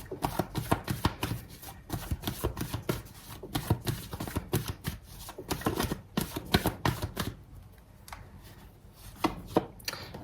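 Tarot cards are shuffled close by in quick, repeated riffling bursts with a brisk, uneven rhythm, fairly loud and without talk, tapering slightly toward the end.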